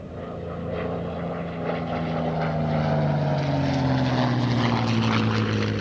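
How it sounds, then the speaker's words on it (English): An early Razorback P-51 Mustang propeller fighter drones loudly and steadily, its engine tone sliding slowly in pitch as it passes near, with no voices. "This is a Razorback P-51, early version."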